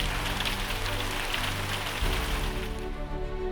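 Heavy rain pours steadily in a dense, even hiss of drops beating on surfaces, close and continuous, with no voices.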